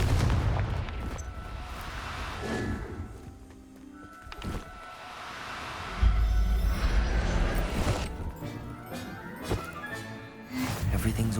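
A Confringo blasting-curse explosion in Hogwarts Legacy lands as a heavy booming burst midway, among other game effects and thumps that rise and fall.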